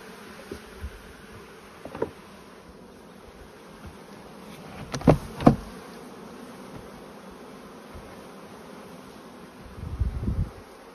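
Honeybees swarm over hive frames being handled, a steady close buzzing hum with a few louder bursts as bees fly near, and soft handling knocks throughout.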